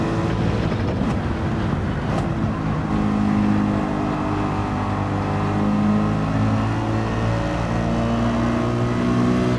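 Race car in Gran Turismo 7, engine held at a steady high drone as it laps the track, loud and continuous, with a brief rising rev near the start.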